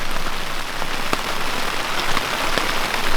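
Steady rain drums on a tent in a backcountry Idaho camp during spring, a dense even patter of drops close overhead with a few louder individual hits, no voices.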